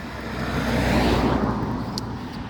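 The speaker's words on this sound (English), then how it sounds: "It's alright, there's a car coming." A car passes by on a road, its engine and tyre noise swelling to a peak midway and then easing off, steady and fairly close, with no speech over it.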